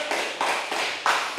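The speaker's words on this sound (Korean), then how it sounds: "창조주께 영광의 박수 올립니다" Church youth congregation clapping in praise after a prayer, four broad bursts of many hands in a slow regular rhythm, each swelling and fading into the next, close and moderately loud.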